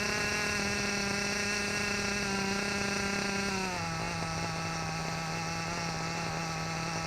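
A Kyosho USA-1 nitro RC truck engine runs during break-in with a loud, steady high-pitched whine, and its pitch drops noticeably partway through as the throttle is turned down.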